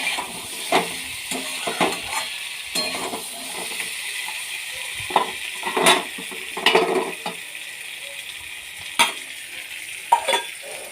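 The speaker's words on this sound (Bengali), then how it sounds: "এই একটুখানি সামান্য কষিয়ে নেবো, নিয়ে আর জল ঢেলে দেবো" A curry is sautéed in a pan, soft frying hiss underneath repeated spatula scrapes and clinks against the metal, irregular strokes at close range.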